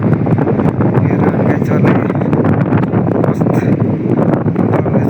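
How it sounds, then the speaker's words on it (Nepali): Strong wind roars steadily against the microphone at a building site in Turkey, loud and unbroken, with faint voices buried beneath the gusts. "हावा कस्तो चलिरहेको रहेछ हर कस्तो डिस्टर्ब आउने भयो नि"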